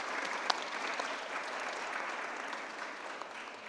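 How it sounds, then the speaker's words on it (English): Audience applause at a young women's leadership program sitting fills the room, a steady dense clapping with a few sharper claps standing out, continuous and fairly close throughout. "you all should give yourselves a round of applause."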